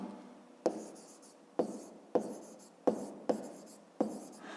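A pen writes by hand on paper while someone works through a fifth-grade maths exercise. Six short scratching strokes come in an uneven rhythm, close up and quiet, with no talking.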